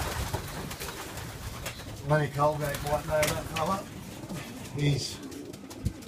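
Racing pigeons coo in a loft, a few soft, low, throaty calls in short bursts, with someone talking close by throughout.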